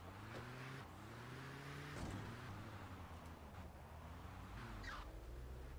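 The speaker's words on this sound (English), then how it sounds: "Gonna have to wait for all the traffic to go." Car traffic in the video game GTA 2, with engines steadily humming and several vehicles droning past at moderate distance, pitches sliding as they go by, no voices over it.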